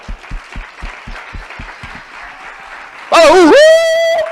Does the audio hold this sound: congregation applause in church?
yes